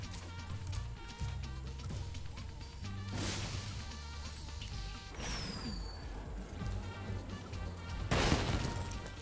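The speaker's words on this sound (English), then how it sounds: "These explosions are really awesome compared to the original." Bursts of explosions in the Spyro Reignited Trilogy video game, three or four sharp blasts spaced a few seconds apart over a busy bed of game music and effects.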